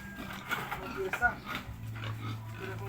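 Pigs grunt and squeal in short, irregular bursts at close range during hauling at harvest time, mixed with a human voice.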